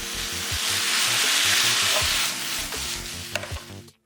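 Bacon and bean sprouts with sauce and a pinch of salt are tossed in a hot pan, producing a loud, continuous sizzle broken by stirring scrapes. Near the end a few clinks are heard before a sudden stop.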